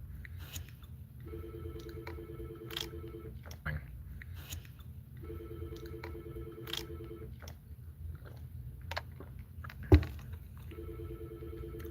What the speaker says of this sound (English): That phone ringing in the background is kind of annoying.